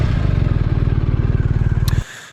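A 2021 BMW R1250RT LE motorcycle with an Akrapovic exhaust, its boxer twin engine running with a loud, steady, rapid pulsing idle close by for about two seconds before it cuts off abruptly.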